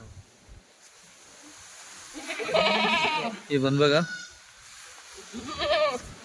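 Several Kathiawadi goats bleat in loud, wavering cries, close by, while someone speaks briefly in the background.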